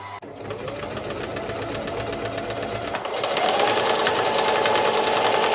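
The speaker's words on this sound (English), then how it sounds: "we're going to go ahead and sew along the neckline and the armholes" Sewing machine stitching along the neckline and armholes of doubled-up fabric for a bridal garment, a steady close whirring drone that grows a little louder and busier partway through, with no talk.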